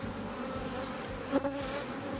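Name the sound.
honey bees buzzing around opened hive frames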